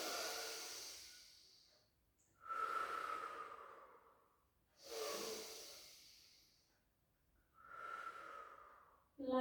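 Slow, deep breathing during a Pilates rehabilitation exercise, with long airy inhales and exhales rising and falling in a calm rhythm, close to the microphone and quiet.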